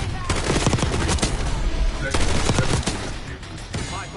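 Rapid automatic gunfire from the Call of Duty Black Ops 6 video game, dense bursts of shots crackling in repeated volleys at close range, loud and continuous over the clip.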